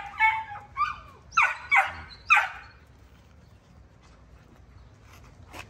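An XL lilac tri bully puppy whimpers and yips in five short, high-pitched cries close by, then falls quiet with faint background hum.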